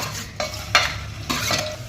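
Finely chopped onion frying in oil in a pot, with a steady close sizzle and a few quick stirring scrapes of a spoon against the metal, loud and near.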